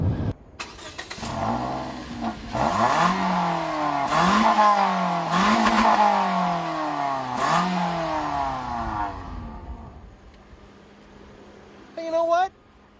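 A 2014 Toyota Corolla's engine revs repeatedly, climbing and falling through several surges in pitch before easing off, with a brief chirp near the end; the engine sounds close and moderately loud, with no clear talking over it.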